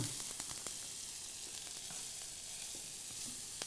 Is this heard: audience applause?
no